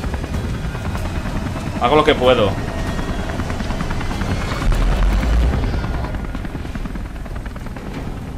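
Helicopter rotor and engine drone from the video game Beyond: Two Souls, a steady low thrum running under the whole stretch while someone speaks over it.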